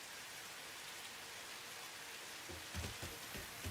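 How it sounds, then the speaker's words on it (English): Steady rain falls in a video game, a dense even hiss of drops with a few soft low thumps near the end, and no talking. "I can only hear the rain"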